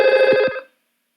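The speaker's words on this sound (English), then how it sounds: "They are working and they are ringing." An IP phone rings during a call test between extensions, giving one bright electronic ring burst close to the microphone that stops abruptly and leaves silence.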